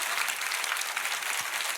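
Brief burst of congregation applause in a large church during a sermon, steady dense clapping at moderate distance with no voices over it.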